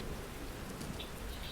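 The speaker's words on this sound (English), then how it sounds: "Oh, the thunder sound are so good." A thunder and rain sound effect plays during a tabletop roleplaying game, with dense, steady rain hiss filling the short stretch at an even level and a low rumble underneath.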